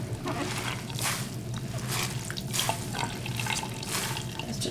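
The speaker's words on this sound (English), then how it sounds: "I will just gently squeeze out some of the water without twisting." Water squeezes and drips from a hand-knitted tee as it is gently pressed without twisting, giving soft wet squishing and splashing in repeated bursts, close and moderately quiet.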